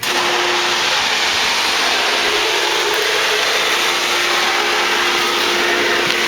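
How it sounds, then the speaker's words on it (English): Pool pump on a Purex/Pentair Minimax heater setup running steadily, a loud, constant broadband whir with a fixed hum, close and unbroken with no talk. "So we turn the pump on first."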